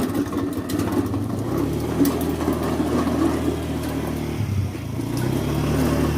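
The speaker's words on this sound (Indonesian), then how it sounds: "Stop, ada motor." A motorbike passes on a street with a steady mid-pitched engine drone that holds close and fairly loud, shifting slightly in tone partway through, with no talk over it.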